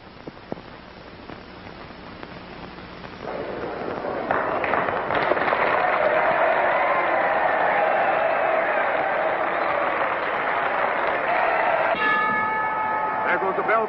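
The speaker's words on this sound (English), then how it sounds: "There goes the bell for the main event." A wrestling match crowd roars and applauds loudly around the ringing bell that opens the main event, the noise swelling and holding steady, with bell tones clanging near the end.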